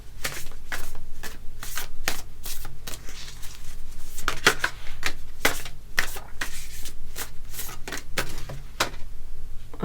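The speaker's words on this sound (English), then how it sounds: "But I'll just shuffle the rest of your cards." A deck of tarot cards shuffled by hand up close, a steady run of quick papery riffles and flicks repeating for about ten seconds with no talking.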